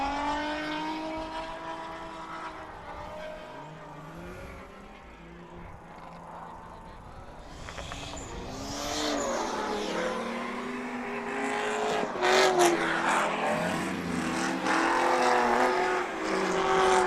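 A Toyota Supra drift car at a race circuit, its engine rising and falling under a loud, sustained roar that builds toward a harsher, louder stretch near the end, with spectators talking over it.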